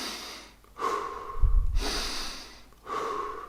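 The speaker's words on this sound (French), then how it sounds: "Ce qu'il faut faire, c'est respirer 30 fois." Deep, rapid Wim Hof-style breathing, with three long, loud inhale-exhale cycles in a steady rhythm and a low snort-like rush of air in the middle, close and alone.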